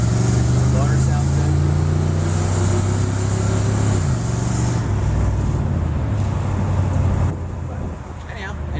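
The engine of a 1969 Mercury Cyclone Spoiler II Cale Yarborough Special idles with a deep, steady rumble close by, its tone shifting slightly partway through before easing lower near the end.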